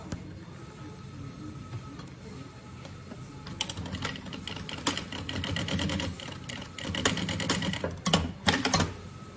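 A sewing machine stitching a top seam on a bunny-shaped backpack with a piping foot, starting with quiet handling and then running in rapid mechanical bursts that stop and restart.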